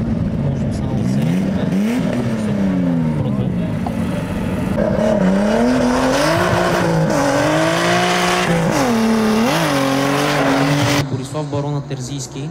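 A drift car at a SoDRIFT 2024 competition round screams at high revs with a wavering engine note and squealing tires, loud and sustained for several seconds before cutting off abruptly, with a commentator's voice running underneath.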